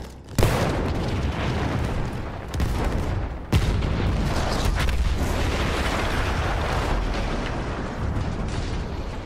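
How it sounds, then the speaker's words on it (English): A huge explosion rips through a World War I battlefield in the Battlefield 1 campaign, a sudden loud boom followed by sustained roaring rumble and debris, with further sharp blasts near 2.5 and 3.5 seconds and no talk. "That explosion was one of the sweetest sights of the war for me."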